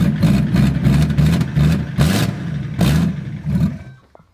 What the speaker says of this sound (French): je vais vous démarrer pour que vous puissiez entendre le bruit d'une 530 diesel atmosphérique